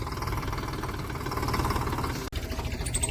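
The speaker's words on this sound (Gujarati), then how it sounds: "કલ્પેશને છે ને ટ્રેક્ટર રાખવાનો એટલો શોખ, ટ્રેક્ટર જડે એટલે જોર દેવા જ માંડે." A farm tractor's engine runs steadily with a low, knocking idle rumble throughout, cut briefly by a sharp dropout before the chugging resumes.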